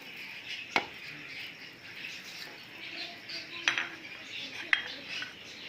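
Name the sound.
dry spices being put into a food chopper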